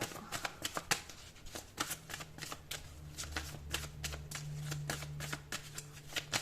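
Tarot cards are shuffled and drawn in a quick, steady run of soft papery riffles and flicks, close and fairly quiet, with a low hum underneath and no talking.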